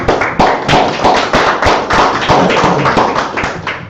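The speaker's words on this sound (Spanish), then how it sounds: "dale un fuerte aplauso a mi Señor Jesucristo en esta noche" A church gathering claps loudly and close, with sharp, fairly rhythmic hand claps that come in pulses roughly twice a second and keep on without a break.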